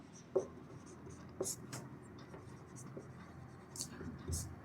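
Chalk or marker scratching out a math solution on a classroom board, a few sharp taps and strokes between quieter stretches of writing, close and fairly soft.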